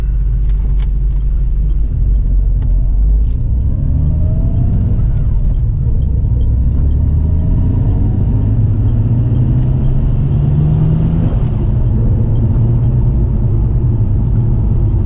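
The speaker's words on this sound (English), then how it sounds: "It sounds good, this car." A Nissan Skyline R32 GTR engine rumbles steadily while driving, low and continuous, with the pitch rising and falling as it moves through traffic.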